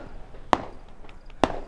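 Two sharp pistol gunshots ring out about a second apart, each a sudden crack with a short fading tail over a low background.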